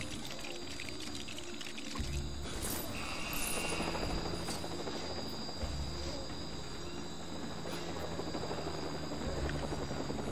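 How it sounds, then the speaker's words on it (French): A rescue helicopter in the PC video game Lego Jurassic World, a steady rotor whir blended with a constant hissing, insect-like drone and watery ambience, no speech. "Ah, c'est l'hélicoptère de secours."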